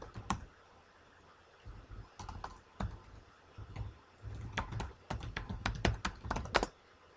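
A link being typed on a computer keyboard: bursts of close, crisp key clicks in irregular runs, growing quicker and denser toward the end, with no talking.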